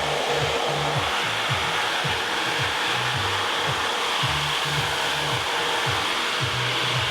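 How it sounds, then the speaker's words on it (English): Steady, loud hair dryer fitted with a diffuser, set to low speed and high heat, blowing continuously at close range while drying short curly hair. "I'm going to enhance that with a diffuser. So low speed, high heat,"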